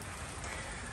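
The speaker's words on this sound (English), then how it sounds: "It's been raining all morning." Heavy rain on a wet morning, with a steady, dense hiss of drops on surfaces close by and no break, heard alone.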